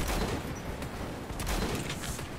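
Dense, continuous gunfire from a video game roars without a break, a heavy wash of rapid shots and booms filling the whole stretch, with no clear voices on top.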